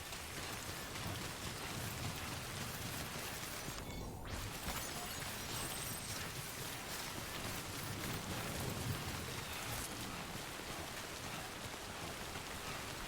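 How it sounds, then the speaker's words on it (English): Heavy rain pours in the video game Death Stranding, a constant dense hiss that stays steady and unbroken from start to finish, with no talk over it. "Man, it's heavy rain now."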